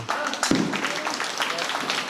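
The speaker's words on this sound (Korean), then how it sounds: "많은 갤러리들의 박수를 이끌어냈던 최민욱의 티샷이었습니다" A golf gallery applauds a tee shot at a GTOUR tournament, a broad wash of clapping from the crowd heard under continuous commentary, with one sharp knock early on.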